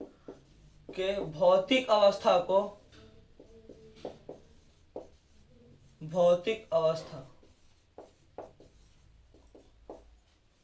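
Faint, short scratches of writing on a board during a Class 10 physics lesson on Ohm's law, heard in the gaps between a teacher's spoken explanation.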